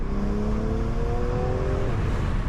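Interior sound of a 2020 BMW M340i accelerating, its engine note rising steadily with a faint turbo whir and flutter under a constant road drone, loud and continuous with no voices.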